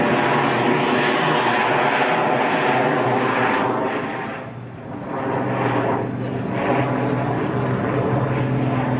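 An aerobatic propeller airplane with a big engine performs at an air show, its loud droning roar filling the air, dipping briefly in the middle as it passes, then swelling back.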